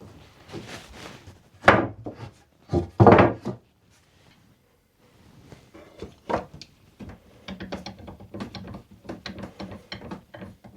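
Clamps ratcheting tight on freshly glued wooden panels about the size of a scaffold board, several bursts of loud clicking and grinding separated by pauses, then a longer run of lighter, quicker clicks.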